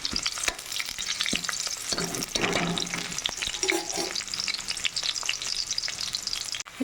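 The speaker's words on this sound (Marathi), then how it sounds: "कांदा फ्राय होत आहे." Onion fries in oil in a pan, a close, crackly sizzle broken by frequent scrapes and clatter from stirring.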